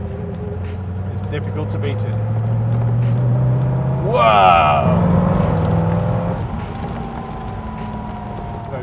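Daimler SP250 Dart sports car with a big front-mounted V8 accelerating hard, its engine note rising loudly through the revs as it passes close by, with someone talking over it.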